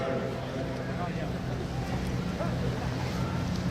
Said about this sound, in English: Hold on, that's the wind.